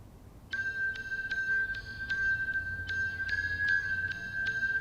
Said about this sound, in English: Next is Gritty Bells, which I believe is another Alchemy synth